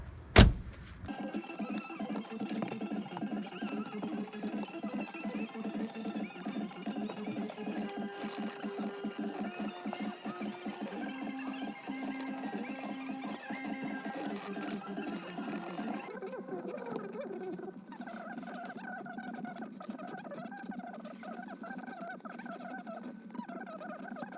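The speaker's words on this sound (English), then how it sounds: "this is what you get when speeding up the clips of the interior glass cleaning when leaving the radio on inside of the car" Sped-up audio of a car radio left playing inside a vehicle during interior glass cleaning, a chirpy, high-pitched warble of fast music and sound that runs steadily and then thins out near the end.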